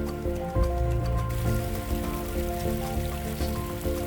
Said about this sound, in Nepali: यो साइडमा पानी यसरी यहाँ बगेको देख्न सकिन्छ।